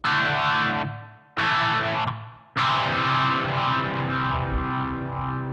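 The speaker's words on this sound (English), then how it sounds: "I like to have a little bit of distortion on it." Electric guitar with a little distortion through a Blackstar HT-5 emulator: three loud, buzzing, sustained chords, the first two cut off quickly and the last one held and slowly swelling for several seconds.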